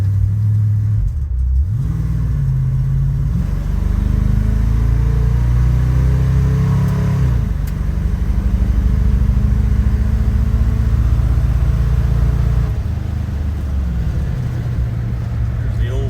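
A 1976 Ford LTD engine runs cold while warming up, a loud, close, continuous low rumble with a couple of revs rising and falling, and a voice can be heard over it.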